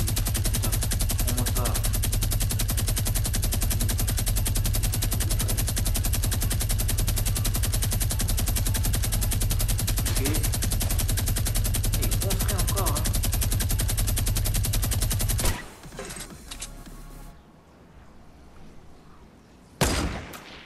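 Rapid sustained automatic gunfire from a battle royale video game, dense and continuous for about fifteen seconds, then cutting out to quieter game ambience with a brief burst near the end; someone talks over it.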